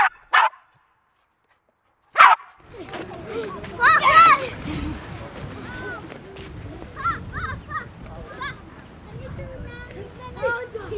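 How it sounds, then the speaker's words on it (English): Village dogs in Zululand bark and yip in a few sharp bursts, then a busy stretch of mixed barking, children's voices and activity follows, fairly close and lively. "dogs have evolved an elaborate repertoire of sounds to better communicate with us"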